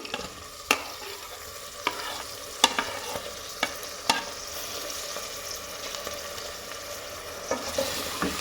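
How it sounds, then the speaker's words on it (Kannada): Tomatoes stirred and fried in the oil tempering for chicken biryani, with a steady sizzle under sharp periodic scrapes of a spoon against the pan, close and moderately loud, with no talking. "ಟೊಮೊಟೊ ಹಾಕ್ಬಿಟ್ಟು ನೀಟಾಗಿ ನೀವು ಒಗ್ಗರಣೆ ಒಳಗೆ ಮಿಕ್ಸ್ ಮಾಡಬೇಕು"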